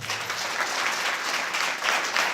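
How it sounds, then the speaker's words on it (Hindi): A church congregation applauds during a Hindi sermon about Jesus, with dense, steady clapping filling the whole stretch at an even level and no voice over it. "एक बार ताली बजा दीजिए।"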